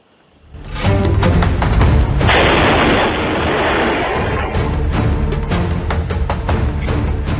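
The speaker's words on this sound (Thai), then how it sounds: "มีการลอบวางระเบิดใกล้ป้อมตำรวจในอำเภอมายอ" A motorcycle bomb goes off beside the Palat police post in Mayo district at night, recorded by a CCTV camera: a sudden loud blast after a quiet start, followed by a sustained, roaring, crackling rumble that stays loud to the end.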